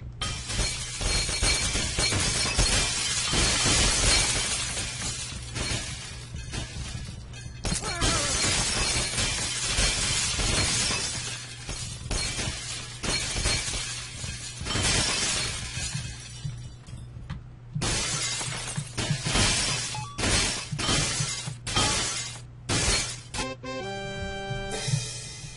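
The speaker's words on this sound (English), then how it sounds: "Glass Crush Demo." Glass shatters over and over in the video game Happy Wheels during a glass-crushing stunt level. Loud, dense crashing and tinkling fragments pile up for about twenty-five seconds with a steady low hum underneath and brief gaps near the end.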